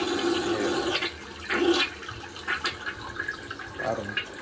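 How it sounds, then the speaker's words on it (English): Gravity-fed toilet flushed by an Arduino-driven mechanism, rushing and gurgling water close by in several surges over a few seconds, no talking. "This is a gravity fed flusher, so yeah, this is how it works."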